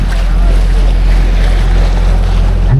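Tour boat gliding along a canal in Bruges, with a steady low engine drone and water wash mixed with wind buffeting the microphone, constant and close throughout.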